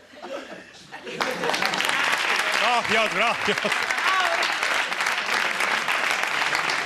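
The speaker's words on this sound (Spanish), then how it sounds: "Gracias por este aplauso desinteresado" Steady audience applause at a comedy monologue swells up after a brief pause and holds for several seconds, with a voice speaking over the clapping.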